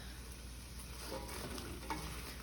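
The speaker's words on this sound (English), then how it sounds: "we're going to add the onions to the pot and begin to stir so that they're combined" Onions are stirred into foaming butter in a pot, giving a soft, steady sizzle with light stirring scrapes, fairly quiet and close, with no talking.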